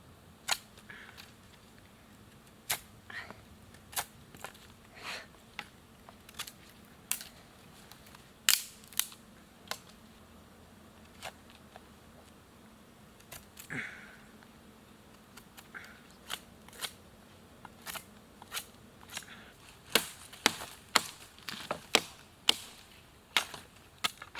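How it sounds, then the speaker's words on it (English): A wooden spindle for a bow drill is cut from a piece of wood outdoors, heard as sharp isolated snips and chops scattered irregularly, quickening into a dense flurry near the end, over quiet background. "now I'm going to cut out the spindle from here"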